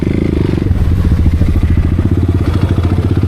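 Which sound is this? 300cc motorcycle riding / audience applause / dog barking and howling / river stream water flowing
300cc motorcycle riding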